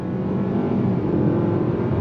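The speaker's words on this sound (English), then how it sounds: "The simulated shifts doing their thing." Engine of a 2022 Nissan Altima Midnight Edition on a twisty road, a steady loud low drone from inside the car, continuous and even without clear shift breaks.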